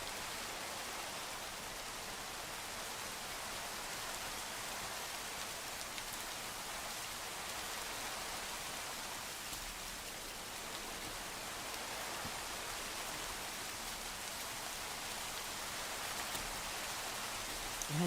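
Steady rain falling in the Minecraft video game: an even, dense hiss that holds unchanged from start to finish, with no talking.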